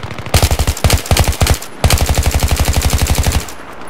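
Machine gun fire in the shooter game Battlefield 3: loud, rapid bursts of automatic shots, first several short volleys and then one longer sustained burst that fades out.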